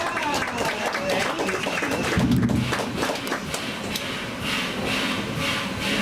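Audience applause and crowd noise aboard a Tweetsie Railroad tourist train on opening day, a steady clatter of clapping with thumps and rail rumble running throughout.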